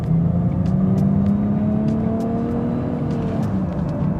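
A 2022 Nissan Rogue with a CVT accelerates, its engine note a smooth steady drone that rises gradually in pitch without shift breaks, heard from inside the cabin.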